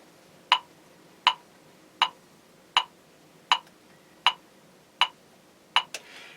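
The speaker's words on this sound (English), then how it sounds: "the metronome will click 80 times" Steady metronome clicks at 80 beats per minute, eight sharp evenly spaced ticks, alone with no voices.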